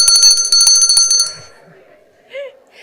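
Hand bell rung at a networking session, a bright ringing shake for about a second that fades out, followed by a brief voice.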